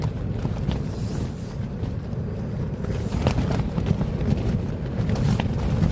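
Steady northerly wind buffeting at a snowy, freezing wild camp near Auchope, a continuous low rumble with gusts across the microphone, no speech.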